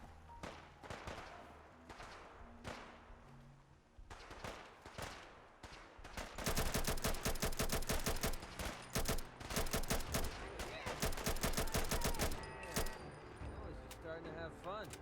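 Gunfire erupts in Fallout 4, a few scattered shots at first, then a dense, rapid run of loud automatic bursts through the middle, with a voice talking throughout.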